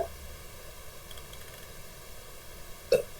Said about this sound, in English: Oh, I burped.